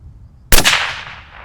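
A 6.5 Creedmoor rifle firing one 129 grain SST round at an outdoor range: one loud, sharp crack with a long rolling echo that decays over the next second.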